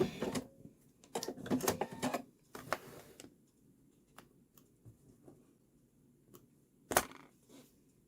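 A sewing machine satin stitches an angel appliqué in short, quiet runs of rapid clicking, broken by pauses and a few sharper taps, close and faint with no talking.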